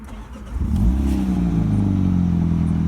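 A car engine cranks and catches, then settles into a steady, loud idle close by.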